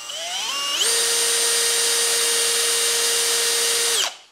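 A titanium engine valve spins in a power tool while its face is pinched in a small piece of white Scotch-Brite, giving a loud, rising motor whine that settles into a steady high drone and stops abruptly at the end.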